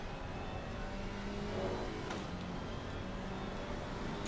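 GT3 race cars in Assetto Corsa Competizione, a multiclass online race, drone past as one steady, loud engine roar. The pitch rises and falls a little as the leaders come through, with no talk over it.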